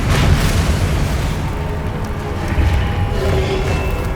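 Confringo blasting curse going off in Hogwarts Legacy during a spell duel, heard as a dense, sustained rumbling boom with crackling debris that stays loud for the whole stretch, with no pause or break.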